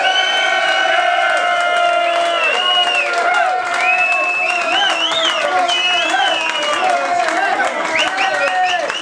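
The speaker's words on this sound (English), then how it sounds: "Let's give him a massive round of applause." A crowd at a Blackpool fan Q&A event applauds and cheers loudly and steadily, with whoops and excited high-pitched shouts rising over dense clapping.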